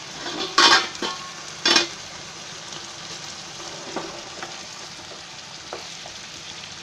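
Potato and brinjal pieces sizzle steadily in hot oil for a home-style vegetable bhaji, with a couple of louder bursts of crackle early on and a brief spoken word over the frying.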